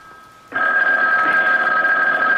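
A telephone rings in a radio mystery drama, a loud, steady electronic-sounding ring that starts abruptly and holds continuously, alone without voices.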